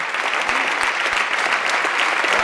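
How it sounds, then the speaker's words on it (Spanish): An audience applauds at an awards ceremony for a national tapas and pinchos competition in Valladolid, a steady, close burst of clapping with a few sharper individual claps standing out. "Un aplauso para Isabel."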